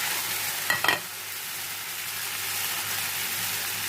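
Tortang talong, an eggplant omelette, goes into a hot pan with a brief clatter, then settles into a loud, steady sizzle of frying oil.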